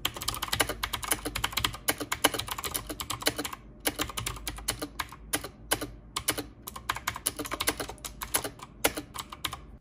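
Rapid, dense clatter of keys being typed on an Oklick gaming mechanical keyboard, loud and close, with brief pauses between bursts and no voices.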